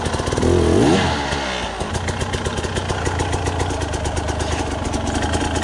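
A pit bike engine idles in snow at a winter camp, ticking in a steady, close rhythm after a brief louder rev at the start, with no talking.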